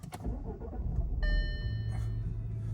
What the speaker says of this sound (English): The engine on these is very smooth, and I'll start it up now for you so you can see for yourself.